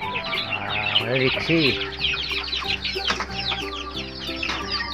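Leghorn and native chickens in a backyard farm cluck and squawk close by in quick, overlapping bursts, and a person speaks briefly among them.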